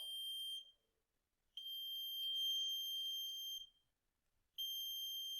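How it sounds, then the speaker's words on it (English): A washing machine's cycle-end buzzer sounds in three long high electronic tones separated by short silences, the middle one longest, clear and alone. "the buzzer has sounded and the washing machine, the full cycle of the washing machine has completed"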